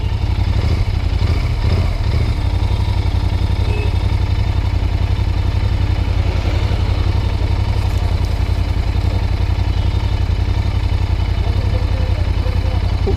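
Royal Enfield Continental GT650 twin-cylinder motorcycle engine runs steady and close, a constant loud low drone with mechanical clatter and no break throughout, likely at speed on a road test ride.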